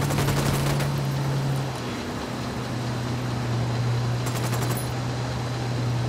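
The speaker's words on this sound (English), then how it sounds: "I'm opening fire" Bursts of rapid automatic gunfire in the video game Ghost Recon Wildlands, a dense cluster at the start and another around the middle, over a constant low vehicle engine drone.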